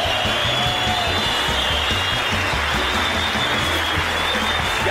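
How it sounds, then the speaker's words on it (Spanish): A studio audience at a Colombian television talk show bursts into loud, dense applause that holds steady for the whole stretch, close and energetic, with no talking over it. "Un aplauso muy fuerte para él."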